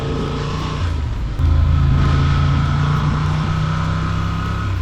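A Honda Transalp 750 motorcycle rides through a puddle on a dirt road, its engine droning steadily and rising slightly in load over a constant rush of wind and road noise, close and loud.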